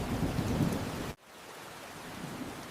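Heavy rain pours in a steady hiss with low thunder rumbling through it, cut off abruptly partway before the downpour resumes slightly quieter.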